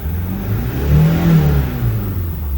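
Mazda CX-5 Skyactiv engine after a carbon cleaning for a diesel particulate filter problem, revving up to a peak then easing back down, a close, steady mid-pitched engine note with no talking.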